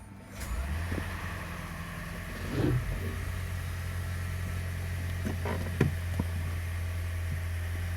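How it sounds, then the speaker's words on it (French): A Lexus CT200h hybrid car engine idles in maintenance mode with a low, steady hum after starting up, accompanied by a few faint clicks and taps nearby. "et là je laisse tourner le moteur"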